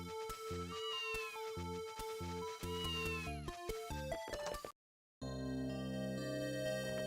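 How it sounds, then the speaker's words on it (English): Cartoonish cat meows from the video game Ys I Chronicles+, a few rising-and-falling cries mixed into loud, steady game music, which cuts out briefly before resuming with a fuller tone. "Oh, cat sounds!"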